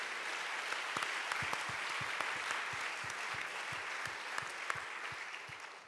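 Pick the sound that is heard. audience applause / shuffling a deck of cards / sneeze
audience applause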